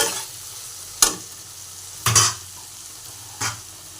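Vegetables fry with turmeric, cumin and ginger paste in a pan: a soft background sizzle punctuated by three sharp scraping stirs spaced about a second apart, nobody speaking.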